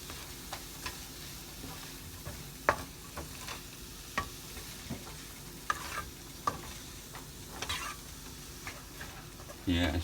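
Celery leaves being stirred into lumpia filling in a pan, giving quiet, steady sizzling with scattered soft scrapes and ticks of a utensil, close but low in level, with a louder burst near the end.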